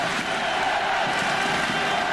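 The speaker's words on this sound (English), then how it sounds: "Just listen to the crowd." Roaring crowd of about 40,000 at a 2004 All-Ireland hurling qualifier between Cork and Tipperary in Killarney, a steady broad wash of cheering and shouting with no distinct breaks, loud and close.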